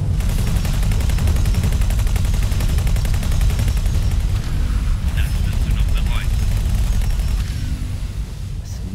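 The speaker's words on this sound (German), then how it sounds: "Wer ballert hier?" Rapid laser and pulse-laser gunfire from a space battle in X4: Foundations, with Nemesis ships fighting Xenon craft and laser towers; dense, continuous volleys of shots under a steady roar, loud throughout with a brief talking voice.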